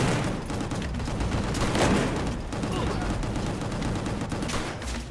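Rapid shotgun blasts and gunfire in GunGrave G.O.R.E, dense and loud throughout five seconds, layered with game noise and impacts.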